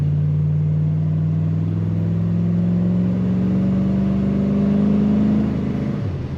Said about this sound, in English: Great sound coming out the back of this car. Nice rumble.